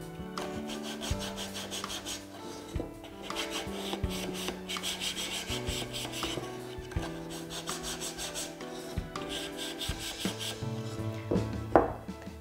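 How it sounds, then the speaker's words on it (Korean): Sandpaper rubs along the edges of a wooden woodcraft piece, rough scraping strokes repeating in an even back-and-forth rhythm, close and fairly quiet, with no talking. "안쪽 모서리도 혹시 너무 거칠다면 안쪽도 조금씩 사포질을 해주시면 됩니다"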